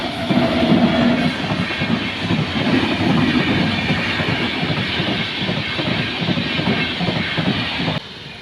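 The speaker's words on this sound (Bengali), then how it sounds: "2-3টে তো ট্রেন যাবে।" A train rolls past a closed railway level-crossing gate, its steady rumble and rhythmic clatter of wheels over rail joints loud and close throughout, easing off slightly near the end.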